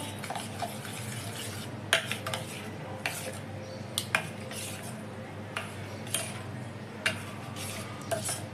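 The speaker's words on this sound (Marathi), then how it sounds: "तर आता आपण हे मिश्रण मिक्स करणार आहोत पूर्ण" Raw mango and jaggery mixture stirred by hand in a bowl for panha, with intermittent spoon clinks and scrapes against the vessel over a quiet steady hum, close and unhurried, with no talking.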